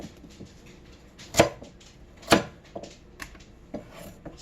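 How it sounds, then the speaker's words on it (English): A knife chops a carrot into thirds on a board as a turkey chili is being prepared, with two sharp, distinct cuts and faint scraping in between, close and quiet. "So he's like cutting the carrot into thirds."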